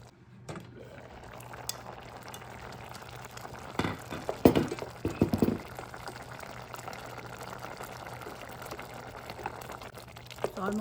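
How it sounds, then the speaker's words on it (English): A pot of lentil dal soup simmers on the stove, a soft steady bubbling hum with a few louder clinks and stirring knocks midway, fairly quiet and close. "let's cook this for 5 minutes. Let it boil."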